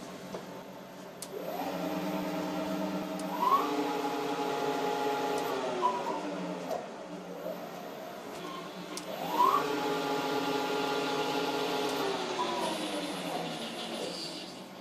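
A Schaublin lathe chuck driven by a variable-speed motor spins up to high speed twice, each run a rising whine that ramps in pitch, holds steady and then falls away, close and continuous.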